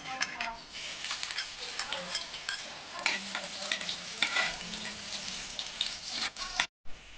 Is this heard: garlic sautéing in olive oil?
yes